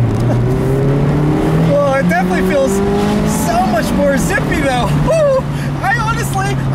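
A 2019 Mazda MX-5 Miata with tuned dampers and larger wheels runs loudly with engine drone and repeated tire squeals, while a person talks excitedly over it.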